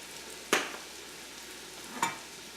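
A spoon stirs roast beef, basil and rosemary soup seasoned with chili powder in a pot, giving two distinct clanks against the metal over a low, steady background hiss.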